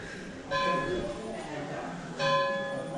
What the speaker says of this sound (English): And you can hear maybe a bell in the background